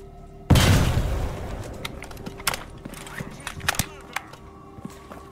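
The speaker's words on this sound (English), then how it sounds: "Have a grenade." A grenade goes off in a game set in an abandoned, decaying station on Jupiter: one sharp, loud blast that quickly dies into a rumbling tail, then scattered clinks and thuds.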